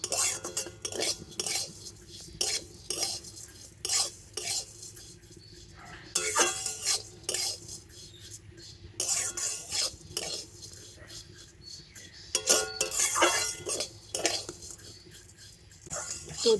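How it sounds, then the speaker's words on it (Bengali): Vermicelli fries lightly in ghee in a pan while a metal spatula stirs it, giving repeated close scrapes and clinks over a faint, soft sizzle. "ঘিয়ের সাথে সিমাইটা একটু হালকা করে ভেজে নেব"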